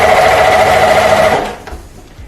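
A sewing machine stitches elastic onto gym shorts fabric in a steady, loud, fast mechanical whir that runs briefly and then stops, with no talking.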